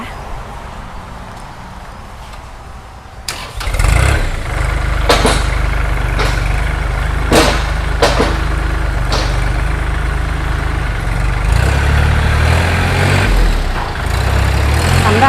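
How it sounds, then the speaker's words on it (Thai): A Kubota L3218SP tractor engine starts up and runs with a steady low rumble, with clattering knocks and bangs on top and some voices in the background. "เดี๋ยวเราฟังเสียงเครื่อง ทดสอบระบบเกียร์ระบบไฮดรอลิกแล้วก็เครื่องยนต์นะคะ"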